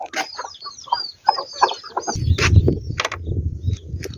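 Chickens clucking close by in quick bursts, with shuffling and rustling sounds building underneath toward the end.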